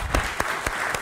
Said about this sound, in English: Now let's give a round of applause for everybody whose hand is up.